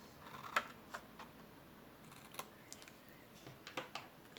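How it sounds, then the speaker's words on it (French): Scissors snip the corners off a small cardboard strip, giving a few sharp, close clicks and cuts spread out over several seconds in a quiet room. "le petit rectangle de 1 cm, je vais couper les coins aussi"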